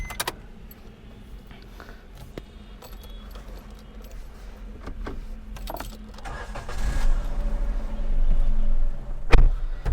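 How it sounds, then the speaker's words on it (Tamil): A Maruti Suzuki S-Presso car starting up, with a few clicks and a brief starter crank giving way to a low engine rumble that builds toward the end, heard up close inside the cabin. "இப்போ கார் ஆன் பண்ணிட்டேன்"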